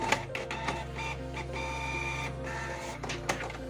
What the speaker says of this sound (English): the document has begun printing